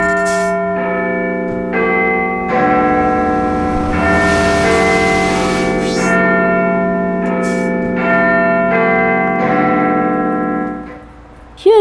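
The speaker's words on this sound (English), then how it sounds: "Big Ben is a giant bell inside and it is incredibly heavy." Big Ben, the great bell in London's clock tower, rings in long, resonant tolls, each deep strike swelling and humming with sustained overtones, loud and continuous with no talk.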